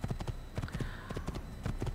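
A black horse trots in the Assassin's Creed video game, its hooves clip-clopping in quick, repeated clusters at close range over a low background.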